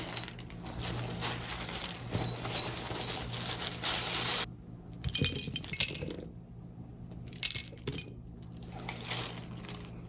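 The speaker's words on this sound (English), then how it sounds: "give the charms a good shuffle." Small metal and glassy trinkets clink and rattle together in bursts of jostling, with brief quiet gaps between handfuls.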